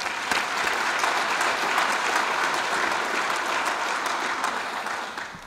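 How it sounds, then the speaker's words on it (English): Audience applause fills the hall at the Modesto Chamber of Commerce 2014 awards gala, a loud, continuous roar of many clapping hands with crisp individual claps, tapering slightly at the end. "Let's give him one more round of applause"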